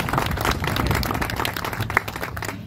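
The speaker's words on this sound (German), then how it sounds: "Und da können wir gerne mal für Hans Otto klatschen." An audience at a centenary festival claps for a person, a dense, steady round of applause with many hands, fairly loud and sustained.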